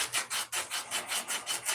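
Hand sanding on a piece of wood makes a rhythmic rasping scrape, about ten even back-and-forth strokes in quick succession, close and alone.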